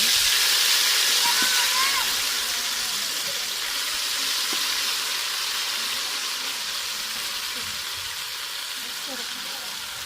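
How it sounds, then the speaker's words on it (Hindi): Cutlets frying in hot oil, a broad steady hiss of sizzling that stays even throughout and eases slightly after the first couple of seconds, with no talk over it. "अभी ऑयल गर्म हो गया, इसमें डालेंगे कटलेट।"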